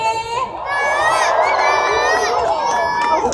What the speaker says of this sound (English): Come on, guys, give them a cheer.